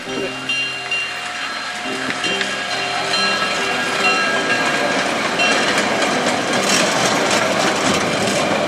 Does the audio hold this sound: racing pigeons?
no